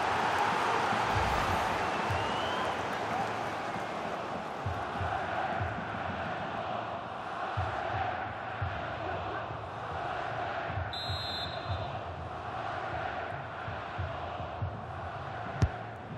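Stadium crowd in the EA FC 24 football video game, a steady, dense roar of many voices swelling under the match atmosphere, continuous and moderately loud throughout with occasional thuds.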